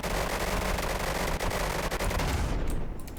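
Rapid, relentless aircraft cannon fire in Garry's Mod, a dense continuous burst of loud shots that fills the whole stretch and cuts off near the end, with no talking over it.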